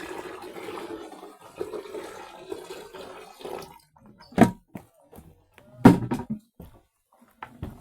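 Water splashing and leaking from an old jerrycan outdoors in a Kenyan village, heard as scattered splashes and knocks with two sharp louder splashes, fairly close and without talk.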